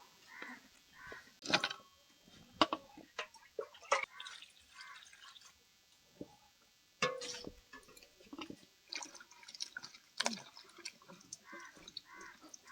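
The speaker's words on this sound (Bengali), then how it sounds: "এবার জল দিয়ে ভালো করে ধুয়ে পরিষ্কার করে নেব" Cut teasel gourds washed with water in a village kitchen: scattered splashes, drips and pours in short bursts with quiet gaps, close up, with faint outdoor birds in the background.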